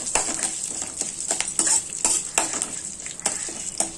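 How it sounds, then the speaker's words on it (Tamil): Curry leaves and broken red chillies fry in hot oil for wheat rava upma, a steady close sizzle broken by repeated scraping stirs of a spatula in the pan. "போட்டு நல்லா இப்படி வறுத்துக்கோங்க"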